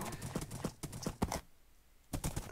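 Horse hooves clip-clop in a video game as a horse moves around near a pen, a quick run of close, crisp hoof knocks, a pause, then a few more steps.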